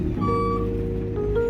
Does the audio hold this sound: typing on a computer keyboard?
no